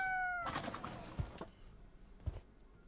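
A kitten in the horror game ORDER13 gives a short, high meow at the start, followed by faint rustling and two dull thumps.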